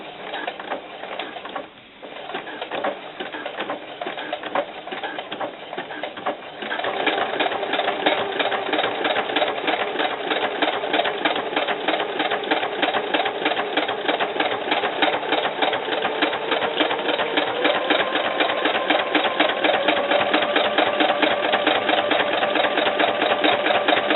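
A sewing machine stitches a side seam on a small knit doll camisole. It starts in short bursts, then runs at a steady fast whir with rapid regular needle clatter, loud and close.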